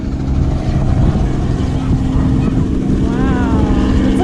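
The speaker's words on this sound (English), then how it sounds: "Look at the helicopter going." A helicopter drones loudly and steadily overhead above sand dunes at Jericoacoara, Brazil, a constant rotor and engine rumble with wind noise and people talking underneath.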